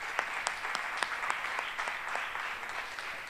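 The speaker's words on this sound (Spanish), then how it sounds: "Así que un aplauso para Sam." An audience applauds a keynote speaker, Cabify's CTO and co-founder, at a tech talk: steady, moderately distant clapping from a crowd, sustained evenly throughout with no voices over it.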